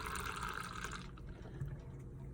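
Triple chocolate stout pours from a nitrogen tap on a kegerator, a steady close hiss and liquid rush that softens partway through.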